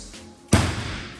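Mirafit Olympic weight plates dropped onto gym floor pads, a single heavy thud that follows a brief quiet and then fades out over about half a second, with no voices.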